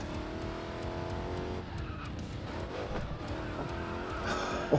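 A modified Challenger SRT Hellcat drifts in the mobile racing game Racing Master, its engine droning loudly as the tires squeal and skid through a corner, with no talking.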